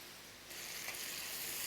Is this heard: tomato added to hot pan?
yes